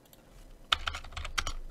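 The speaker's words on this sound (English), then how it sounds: "click the plus variable, and type in section length" Keys clacking on a computer keyboard in a short burst of about a dozen close, crisp taps, grouped quickly with brief gaps, in an otherwise quiet room.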